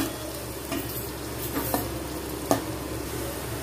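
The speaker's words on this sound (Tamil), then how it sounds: "ஆனியன் போட்டு கொஞ்ச நேரம் நல்லா கோல்டன் ஃப்ரை ஆகட்டும்" Onions frying to golden in a pan for a Tamil-style sankara fish curry, giving a steady close sizzle with a few soft stirring scrapes and taps, no voices.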